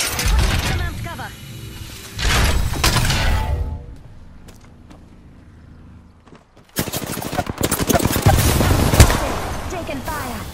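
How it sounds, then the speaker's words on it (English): Gunfire in the battle royale game Apex Legends, bursts of rapid shots and sharp cracks in two busy stretches separated by a quieter gap, with voices talking over parts of the action. "Taking fire."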